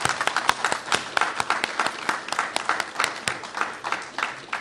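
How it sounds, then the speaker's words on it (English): Applause from a seated audience at a disability-services event honoring long-serving staff, a steady patter of many hands clapping at moderate volume with sharp individual claps standing out, no voices. "I'd really like to give them a round of applause."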